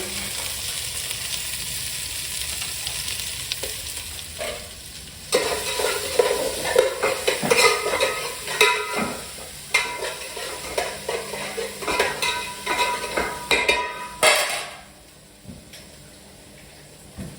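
Onions frying in a pot for Bengaluru-style donne biryani, a steady loud sizzle with scraping and stirring of a spoon against the metal, surging louder partway through, then settling down at the end.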